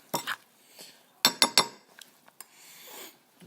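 A metal spoon scrapes and clinks against a pot while stirring porridge, with a few sharp taps in quick succession and softer scraping in between, close and quiet.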